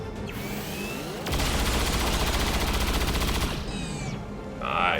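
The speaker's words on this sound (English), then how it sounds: "Let's blow up the pump that the captain was nice enough to take cover next to" A pump blows up in the XCOM 2 video game: a sustained, loud roaring blast lasting over two seconds with rapid crackling texture, then settling into quieter rumble and a brief whoosh at the end.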